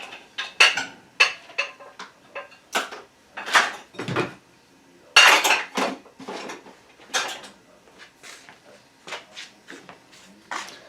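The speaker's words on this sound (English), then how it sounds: "where the heck is my little teaspoon at?" Cutlery rattles and clinks in a kitchen drawer while someone searches for a teaspoon, a rapid series of close metallic clatters in uneven bursts.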